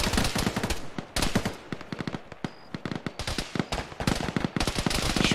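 Rapid automatic gunfire in a military video game, loud and close, with dense bursts and overlapping shots continuing almost without pause, some sharper single cracks between the strings of fire.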